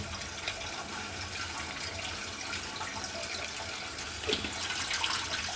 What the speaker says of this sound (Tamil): தேவையான அளவு தண்ணி சேர்த்துங்க